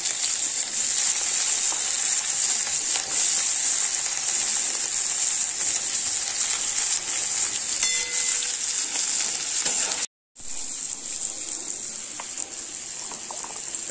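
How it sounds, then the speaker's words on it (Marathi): Sliced onion sizzles and fries steadily in oil left over from frying eggs, the start of an egg curry gravy; a loud, continuous crackle that stays close, with no talking. "फ्राय करून उरलेल्या तेलात आपण कांदा टाकून घ्यायचा आहे."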